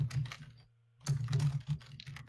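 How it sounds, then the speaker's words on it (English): Vigorous typing on a computer keyboard during a tabletop role-playing game session, dense rapid clacking in two bursts separated by a brief silent pause, close and fairly loud. "Vicious typing."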